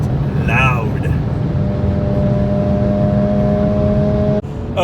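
A loud Mazda RX-8 rotary exhaust drones steadily at freeway cruising speed with windows up, a constant low rumble with a tonal hum, dipping briefly near the end.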